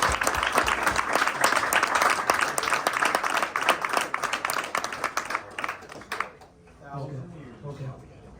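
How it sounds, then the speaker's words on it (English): Loud, sustained applause from a crowd, dense and steady, fading out near the end as a voice begins speaking. "let's give these two guys a huge round of applause"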